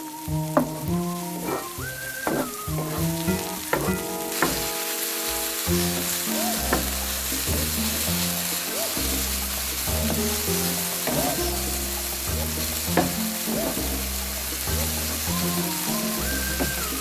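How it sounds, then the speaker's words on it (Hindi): Green and red tomatoes fry on high heat in a pan, giving a continuous loud sizzle with occasional stirring, under background music with melodic notes throughout. "हरा और लाल टमाटर ये सारे इसे जो है आपने तेज़ आंच पे इस तरह से फ्राई पैन में जो है इन सब चीज़ों को फ्राई कर लेना है"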